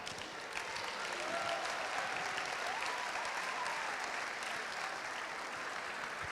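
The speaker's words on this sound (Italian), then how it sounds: "Tanti applausi per questi ragazzi fortissimi." Sustained applause from a crowd at a youth basketball event, steady and dense clapping throughout, with no voices standing out.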